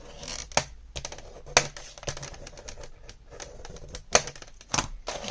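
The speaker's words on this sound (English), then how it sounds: "I'm going to fold and crease or burnish these score lines down" Cardstock score lines being folded and burnished by hand for a gatefold mini album, giving a run of sharp, close scraping and crackling strokes in uneven rhythm with quiet gaps between, no talking.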